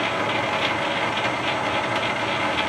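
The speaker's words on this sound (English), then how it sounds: "Start the lathe up." A metal lathe runs with its lead screw feed engaged, giving a steady mechanical whirring and ratcheting clatter, close and constant with no talk.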